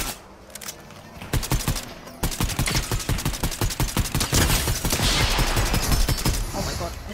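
Rapid Fortnite gunfire, bursts of sharp repeated shots crackling continuously at close range, loud and dense with little pause, from a Spider-Man 2099 challenge match.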